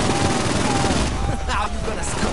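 Rapid gunfire sounds from the video game Saints Row 4, coming as dense, loud bursts of shots with a voice partly over them.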